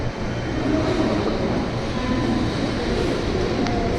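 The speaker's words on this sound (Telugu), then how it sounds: "వావ్, ఇది రైల్వే స్టేషన్." Train noise at Mumbai Central railway station, a steady broad rumble of rail cars with faint clatter and occasional high squeal, loud and continuous throughout.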